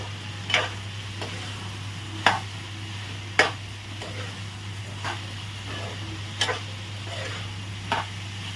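A utensil stirs ridge gourd and meal maker curry in a pan, giving sparse, evenly spaced clicks and scrapes over a steady low hum and faint sizzle, close by and without speech.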